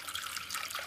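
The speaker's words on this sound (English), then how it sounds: "I'm gonna pour more of that salt solution into" Salt solution pours from a gallon jug into a Pyrex measuring cup, a steady close liquid trickle and splash running continuously with no speech.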